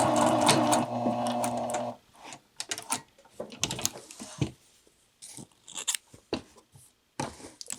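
A sewing machine runs in a loud, steady burst at the start as it back tacks a curved seam. Irregular crunchy clicks and small handling taps follow.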